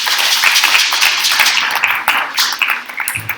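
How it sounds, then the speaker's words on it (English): An audience claps for a speaker at a human rights report launch, a dense, fairly close patter of hands that thins toward the end. "and clap for Sharif"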